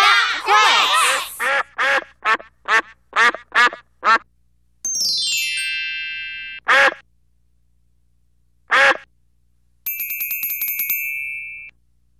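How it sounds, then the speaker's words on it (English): A duck quacks in a quick run of about eight loud, close calls, followed by bright chiming bell-like effects and two more isolated quacks in between. "A duck quacks."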